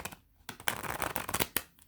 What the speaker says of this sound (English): every once in a while I'll, shuffle them backwards to kind of get the bend out